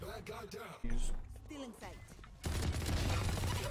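Rapid gunfire from a weapon in the Valorant video game, heavy bursts hitting loud twice and then sustained to the end, with voices talking over it.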